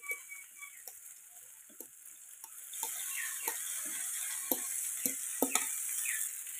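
Mashed roasted eggplant is stirred into a tomato-onion masala in a pan, with soft scraping strokes and sharp spoon taps against the pan over a quiet sizzle that grows louder midway.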